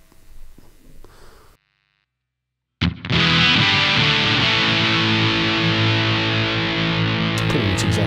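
After a short silence, a guitar run through a Zoom Ultra Fuzz UF01 fuzz pedal into a clean amp channel comes in with a sharp attack, then a thick, distorted chord sustains loudly and slowly fades.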